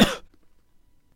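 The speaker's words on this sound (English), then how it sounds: "use trimming to remove this cough from the recording" A single sharp cough bursts out loud and close at the start, then fades into near silence with only faint low room noise.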